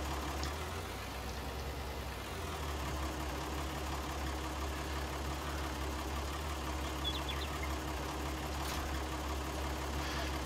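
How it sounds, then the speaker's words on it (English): A tractor engine in Farming Simulator 19 idles with a steady, low, even rumble that holds throughout without a break. "let's get back in the tractor and start up and attach"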